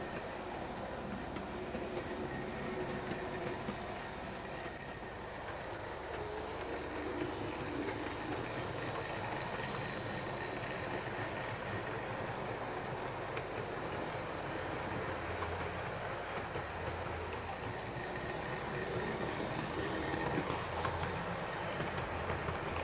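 A model train runs steadily on its track, a continuous rumbling clatter with a faint whirring hiss, even and unbroken throughout.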